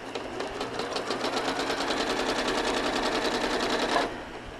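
A home sewing machine runs quilting stitches in one continuous, evenly pulsing burst of rapid needle strokes, close and fairly loud, stopping abruptly near the end with no voices.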